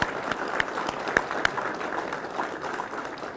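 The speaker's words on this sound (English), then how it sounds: "Please give them a round of applause as well." Audience applause at a law enforcement academy graduation ceremony, a steady wash of many hands clapping in a hall with a few sharper individual claps standing out, moderately loud and sustained throughout.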